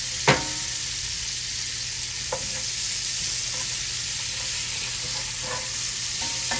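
Onions frying in a skillet give a steady, even sizzle throughout, with a few faint utensil taps and stirs near the pan.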